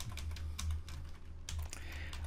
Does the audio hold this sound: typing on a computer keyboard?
yes